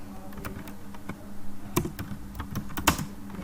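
Computer keyboard typing, a string of distinct close key clicks in uneven rhythm over a steady low background hum, with no voices.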